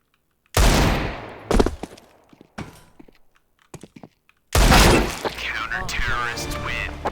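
Gunshots from a Desert Eagle pistol in Counter-Strike 2: several sharp, separate cracks spaced a second or so apart, then a denser stretch of gameplay noise with a voice talking over it.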